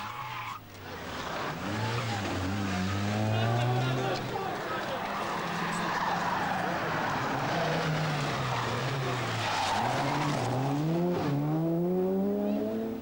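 A rally car on the 1988 Circuit of Ireland roars close by, its engine note climbing and falling through repeated gear changes, with gravelly tire scrabble and rushing noise throughout.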